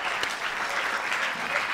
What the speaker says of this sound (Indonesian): Tepuk tangan untuk semua bintang tamu kita yang telah hadir di sini